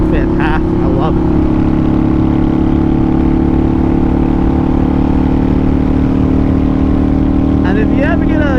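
Deep, steady idle of a 2005 Harley-Davidson V-Rod motorcycle engine with a strong low throb, loud and close, with faint voices at the start and end.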